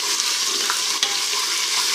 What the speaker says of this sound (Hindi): तो इसमें डालेंगे लहसुन अदरक का पेस्ट